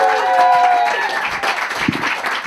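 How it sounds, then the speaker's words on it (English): A comedy club crowd applauds a comedian named Kieran with a dense wash of clapping that runs under brief bits of voice and fades a little toward the end. "Let's give Kieran a huge round of applause for tonight"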